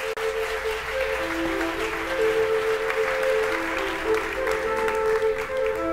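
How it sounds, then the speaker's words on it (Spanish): Sustained applause from a crowd at a tech conference welcoming a bank CEO to the stage, steady and fairly loud throughout, with faint sustained tones beneath. "Así que un aplauso muy fuerte para Narciso Perales."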